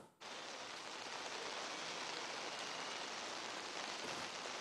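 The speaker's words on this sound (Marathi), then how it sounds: "आता पुण्यामध्ये सुद्धा पावसाला सुरुवात झाली आहे" Heavy rain pours down in Pune as a dense, steady hiss that starts abruptly and holds unbroken at an even loudness, with no voices.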